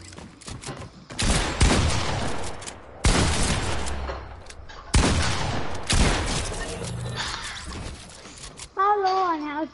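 Repeated loud bursts of gunshots sound in a shooting video game, coming in several clustered volleys across the stretch, with a player talking over part of it.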